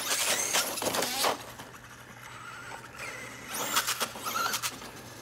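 Traxxas Stampede 2WD RC truck with the VXL system on a 2S LiPo, driving in two loud bursts of high electric motor whine and tire scrabble, separated by a quieter stretch of idle noise.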